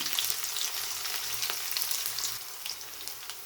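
Onion sizzles steadily in hot oil with mustard seeds in a pan, a loud continuous frying hiss with scattered crackles and pops throughout.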